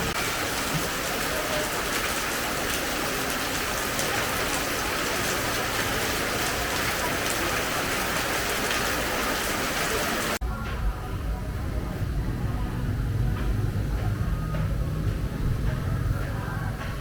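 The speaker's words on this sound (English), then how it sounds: "it's raining super heavy." Heavy rain pours down steadily in Hanoi, Vietnam, a dense hiss that stays loud and close, then turns darker and lower partway through as if heard from under cover.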